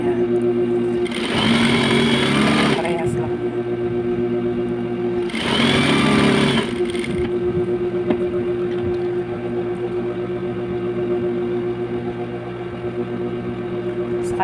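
A sewing machine stitches a fabric grocery bag in two distinct bursts of rapid, buzzing stitching, separated by pauses filled with a steady background hum.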